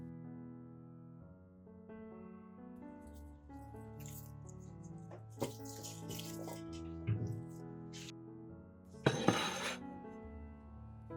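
Water is poured into a large bowl of small, firm Vietnamese garlic cloves, giving soft trickling and dripping with a few light clinks and splashes and one louder sloshing burst near the end, fairly close and quiet.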